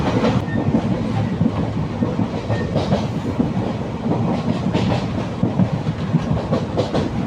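The Kalka–Ambala Cantt passenger train rolls steadily along the rails, with a continuous rumble and rhythmic wheel clatter heard from inside the carriage, loud and close, with no talking.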